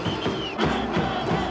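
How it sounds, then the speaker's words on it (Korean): A crowd of spectators at a 1996 Korean pro baseball season opener roars in a dense, continuous cheer that swells and surges, with no distinct voices standing out. "우렁찬 함성."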